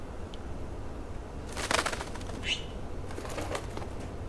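Trapped bird in the Life is Strange video game, a brief burst of wing flapping and a faint coo against a quiet background.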